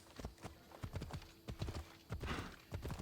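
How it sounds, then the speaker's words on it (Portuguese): Horse hooves clip-clop in a steady rhythm in the video game Assassin's Creed Odyssey, sharp close hoofbeats over a quiet ambient game background. "O meu cavalo."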